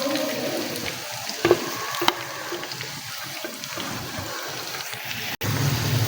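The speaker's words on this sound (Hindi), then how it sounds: "ये देखें प्याज को हम जो है ना भून रहे हैं" Three medium chopped onions frying in a pan for kachnar keema, a continuous soft hiss and sizzle with a couple of brief clinks, followed by a sudden cut and a louder hiss at the end.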